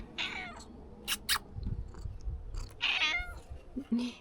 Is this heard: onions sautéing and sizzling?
no